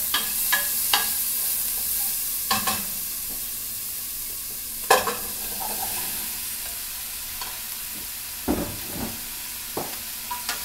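Cubes of squash, sweet potato and pear stirred in a pot, giving a series of scraping spoon strokes over a soft steady sizzle, spaced irregularly and close by.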